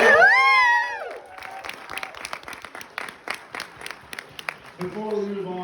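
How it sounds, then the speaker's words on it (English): An audience breaks into a round of applause with dense, even clapping after an announcer's raised voice, holding steady for several seconds before speech resumes. "everybody, another round of applause"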